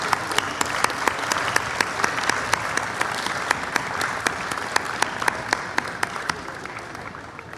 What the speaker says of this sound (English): Let's give a big round of applause for Miss Jacqueline Polk-Lyons